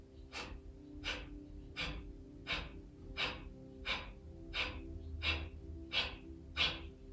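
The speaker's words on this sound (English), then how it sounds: "we'll take a half inhale in and do 10 pumps" Ten rapid, forceful breath pumps from a breathwork exercise done on a half inhale, each a sharp burst of air through the nose or mouth, evenly spaced about two-thirds of a second apart, close and clear with no talking.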